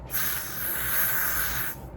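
A sunscreen body spray gives a single steady aerosol hiss lasting about a second and a half, close and fairly quiet, with no talk.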